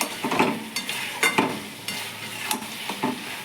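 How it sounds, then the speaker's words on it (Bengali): Mutton with ginger paste being sautéed in a pan, the spoon stirring and scraping in repeated close strokes over a continuous sizzle, with no talking. "আদা বাটাটা দিয়ে আমি আবারও কষবো 5 মিনিট মতন।"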